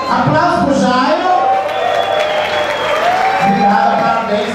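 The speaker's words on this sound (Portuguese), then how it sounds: "Aplausos pro Jairo." An audience at a Blue Space show applauds the choreographer, with loud continuous clapping and some cheering running beneath prominent amplified talk.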